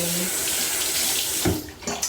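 Water runs steadily from a tap to wet a face cleanser during a skin care routine, a continuous close splashing hiss that briefly changes as hands move under the stream.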